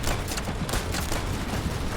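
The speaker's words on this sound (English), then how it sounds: "This hand cannon is so good." A hand cannon firing in a video game, heard as a steady sequence of sharp, loud shots against constant low rumble, with a few evenly spaced reports in quick succession.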